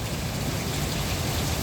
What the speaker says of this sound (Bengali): ঝড় চলছে, শিল পড়াও কিন্তু চলছে, বৃষ্টি তো চলছেই